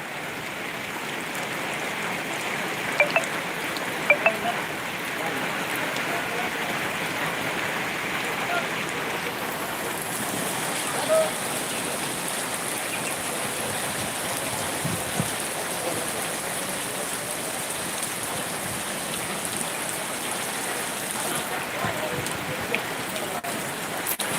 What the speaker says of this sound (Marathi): जोराचा पाऊस या ठिकाणी सुरू आहे बघू शकता